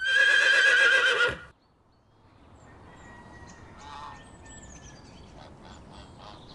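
A horse gives one loud, shrill whinny lasting just over a second, then cuts off, leaving a quiet outdoor farm background with faint distant sounds.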